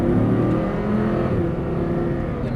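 Audi R8 engine pulling hard under throttle on a track, a loud steady roar with rising tone that holds for the full stretch, close and continuous with no talk over it.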